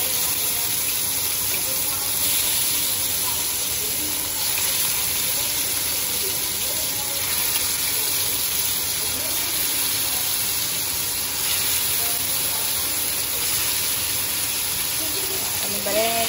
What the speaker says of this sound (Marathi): हांव जस्ट अशें करून ताका घालून घेता आनी भाजून घेता